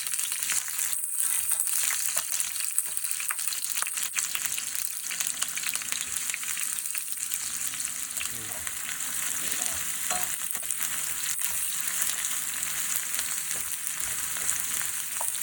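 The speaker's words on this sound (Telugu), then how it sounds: "కట్ చేసుకున్న ఆనియన్స్ వేసుకొని ఫ్రై చేసుకోవాలి" Chopped onions frying in hot oil in a pan for egg pulao, a steady close sizzle with occasional stirring scrapes, no talking.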